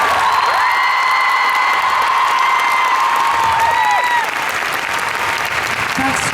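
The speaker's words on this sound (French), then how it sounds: "Est-ce qu'on peut l'applaudir vraiment très très fort?" A large crowd at a live dance show in Lyon applauds loudly and steadily, with cheers and a few whoops rising over dense clapping and some talk mixed in.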